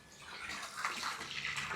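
Water pours steadily into a large inflatable swimming pool at a children's play session, a continuous splashing rush heard close up with no talk.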